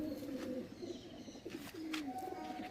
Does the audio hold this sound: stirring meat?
no